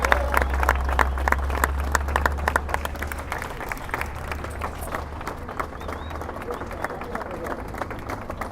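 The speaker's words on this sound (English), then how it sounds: "So please help me welcome to the stage now our honoree, Ken Ehrlich" An outdoor crowd applauds at a Hollywood Walk of Fame star ceremony, with sustained dense clapping that stays loud and close, then thins slightly while some cheering and crowd murmur continue.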